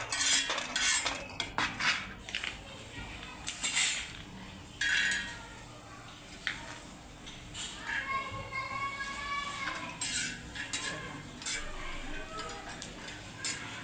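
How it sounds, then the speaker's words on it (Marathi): A spoon clinks and scrapes against a pan as coconut roasts, with sharp metallic taps and stirring scrapes scattered throughout, close by and under ongoing talk and children's voices in the background. "आता आपण खोबरं भाजून घेऊ"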